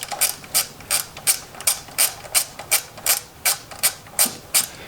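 A hand ratchet undoes 12mm bolts on the thermostat housing of an 80 series vehicle, giving about eleven evenly spaced, crisp close-up clicking bursts in steady rhythm, with no talk.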